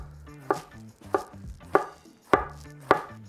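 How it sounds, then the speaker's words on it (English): A knife chops rolled lettuce leaves on a board, five or six crisp, evenly spaced strikes up close, each a sharp crunchy thwack followed by a short pause. "we're gonna roll this into a beautiful blunt, and then we're just gonna chop this super fine"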